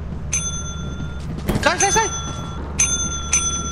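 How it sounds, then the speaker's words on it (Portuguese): A doorbell in a multiplayer video game is pressed again and again, its bright electronic chimes ringing out in short bursts while players shout over it. "Não aperta a campainha, não aperta a campainha."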